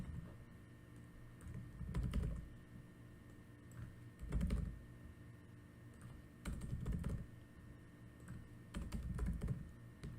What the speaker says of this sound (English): using the arrow keys, I'm clicking up, down, left, right